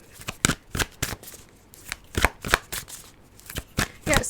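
A deck of tarot cards being shuffled by hand, close up, in quick irregular bursts of riffling and slapping, with brief gaps between.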